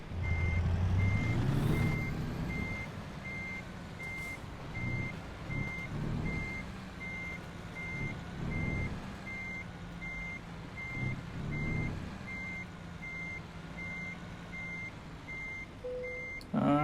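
Evenly spaced reversing beeps sound from a truck backing into a parking space in American Truck Simulator, chirping steadily for most of the stretch over a low diesel engine rumble with a brief air brake hiss at the end.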